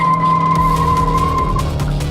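A 2024 Honda Amaze spins its wheels. A sustained, loud tire squeal rings over the engine noise for about two seconds, then fades out near the end.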